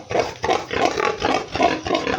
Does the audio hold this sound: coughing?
no